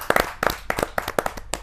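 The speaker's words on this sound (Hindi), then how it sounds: "जोरदार ताली के साथ रसिक गुप्ता जी का स्वागत।" Audience clapping rings out to welcome a poet onto the stage at a Hindi kavi sammelan. The bursts are sparse and uneven, with a few rounds of claps spread over under two seconds and no talking.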